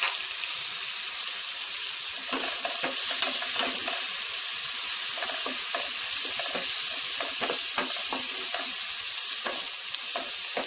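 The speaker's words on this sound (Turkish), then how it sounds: "Ondan sonra kavuruyoruz" Mushrooms sautéing in a pan with chili flakes and cumin give a steady close sizzle, with scattered clicks and taps of stirring throughout and no talking.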